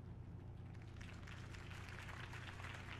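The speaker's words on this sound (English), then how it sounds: "could have heard that applause" Crowd applause follows a Harvey Dent campaign speech in the Batman Telltale video game, a dense, steady wash of clapping that builds slightly and continues throughout at moderate level.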